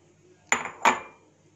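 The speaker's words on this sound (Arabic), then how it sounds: "هجيب البوله اللي هبتدي ان انا اشتغل فيها اهي هحط الاربع بيضات" Two eggs rapped sharply against the rim of a mixing bowl, a pair of crisp, close knocks about a third of a second apart, while four eggs go in for a strawberry cake batter; no talking.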